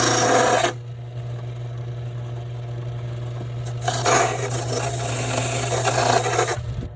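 A hand file rasps burrs off a freshly cut key on an Ilco 017 key duplicator, a loud scraping stroke near the start and a longer rubbing pass later, over a constant low machine hum.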